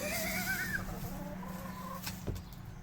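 A chicken by a lake clucks softly at middle distance over a steady low outdoor hum, with a few faint bird calls and no talking.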